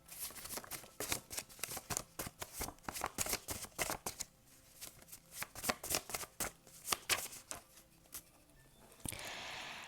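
Oracle cards being shuffled by hand, a close, rapid series of crisp riffling flutters and slaps in uneven bursts, ending with a soft rustle.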